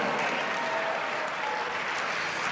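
Audience applause at a network marketing motivational event, a steady broadband wash of clapping from a large crowd, continuous and fairly loud for the whole stretch with no speech over it.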